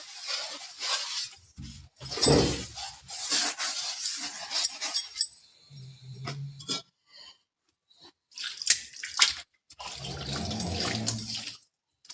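Clothes or items are washed by hand using water and Surf detergent, with bursts of splashing, rubbing and running water separated by short pauses, close by and moderately loud.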